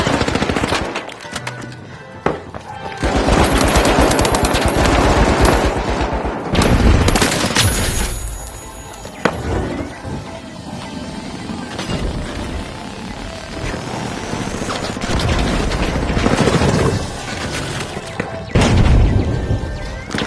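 Automatic gunfire and thudding grenade explosions in the video game The Finals, loud dense bursts of rapid fire with heavy booms scattered throughout, continuous and chaotic, with shouted callouts mixed in.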